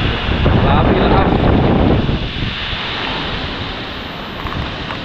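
Strong typhoon wind roars and buffets a microphone by a roadside up high, a dense heavy rush that is loudest at first and then eases slightly while staying constant.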